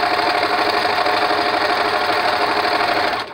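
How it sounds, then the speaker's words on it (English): A sewing machine chain-stitches fabric medical mask covers, running at a fast, even, rapid whir, loud and close, with a brief drop at the very end as it stops. "So now I'm just stitching around my mask."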